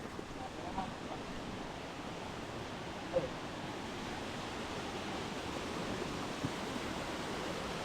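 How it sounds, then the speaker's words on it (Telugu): Steady rushing water from Rampa Waterfalls in Maredumilli, a constant broad hiss heard from some distance with no pauses. "వాటర్ ఫాల్ స్టార్ట్ అయింది"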